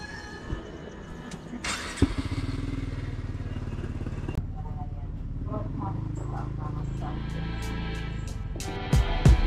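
A heavy motorcycle engine rumbles steadily up close, with clatter and a few thumps, and a voice talks intermittently over the drone.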